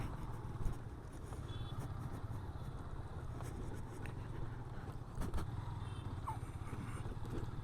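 A motorcycle engine running steadily while riding along a road, a continuous low droning hum with faint passing vehicle noise, no talking.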